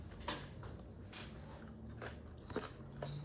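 Someone bites into and chews a freshly baked chocolate chip cookie, soft yet crunchy, with a few sharp close crunches standing out from quieter steady chewing, and no one talking.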